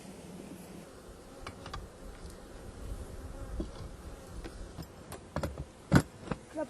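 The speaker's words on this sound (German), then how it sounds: "Die Bienen schlecken jetzt diese Leisten ab, holen den letzten Honig dabei raus." Honey bees from a Bienenkiste hive buzz steadily during a honey harvest, licking the last honey off emptied comb bars; a continuous low drone of many bees with individual insects passing close, plus a few sharp knocks and clicks near the end.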